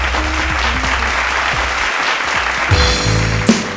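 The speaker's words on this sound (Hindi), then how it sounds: "बहुत सारी तालियां।" Loud, dense applause from a studio audience at a dance competition show, steady throughout with a short burst near the end and a musical sting joining partway.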